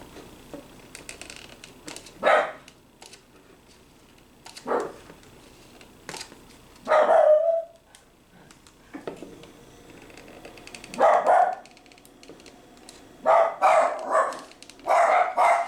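Several dogs indoors bark excitedly at a squirrel outside, in loud repeated bursts of barks and yips separated by quiet pauses, with no talking.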